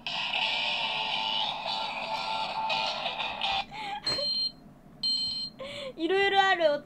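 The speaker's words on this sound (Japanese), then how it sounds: "アラーム音の癖強くない？なんか。" A handheld device plays through a series of quirky alarm tones, from sustained electronic beeping to warbling melodic chirps that switch abruptly between patterns, with brief gaps and someone speaking in between.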